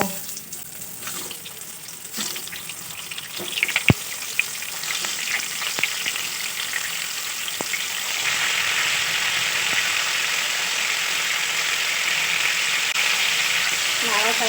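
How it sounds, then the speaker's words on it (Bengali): Pointed gourd (potol) fries in hot oil in a kadai, producing a steady, hissing sizzle with a few sharp clicks early on; the sizzle grows fuller and denser about halfway through. "কড়াতে তেল দিয়ে দেব এটা গরম হয়ে গেছে পটলগুলো ভেজে নেব"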